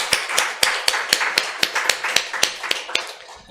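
Applause at an installation worship service for a regional elders' association president, heard as a sparse series of sharp, separate claps in a fairly even rhythm, moderately close, tapering off toward the end.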